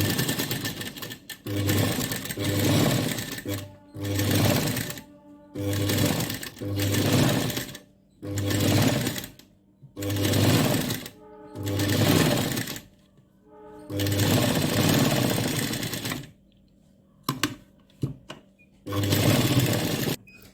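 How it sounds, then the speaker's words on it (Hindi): A sewing machine stitches a blouse around the shoulder, running close beside the embroidery. It is loud and near, in repeated bursts of a second or two separated by short pauses. "अब हम इस एम्ब्रॉयडरी के पास पास इसे सिलाई करेंगे"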